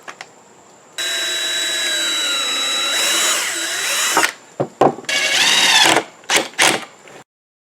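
Two power drills bore into wood, with one long, steady, loud whir that thickens as a second motor joins, then several short stop-start bursts before silence.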